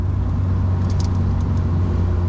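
A 2007 Chevy Cobalt SS engine runs downhill in third gear, a loud, steady low drone from inside the car with no talking over it.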